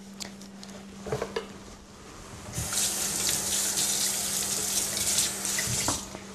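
Water runs from a kitchen tap as food is rinsed while vegetarian dishes are prepared. A few dish and utensil clinks come first, then a steady, close splashing stream fills the rest.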